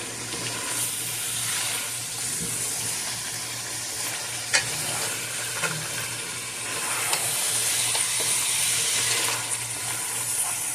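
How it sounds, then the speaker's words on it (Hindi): Mutton frying and being stirred in oil for pulao gives a steady close sizzle and hiss, with scattered scrapes and clinks of the stirring spoon against the pot and no talking. "ये देखें माशाल्लाह कितना ज़बरदस्त इसकी बुनाई हो रही है"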